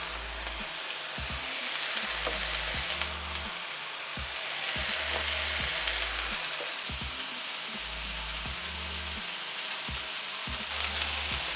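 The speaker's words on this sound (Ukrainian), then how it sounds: "Підсмажую булки." Burger buns toast in a frying pan, giving a steady, close sizzle and crackle with occasional stirring or shifting sounds, alone without talk.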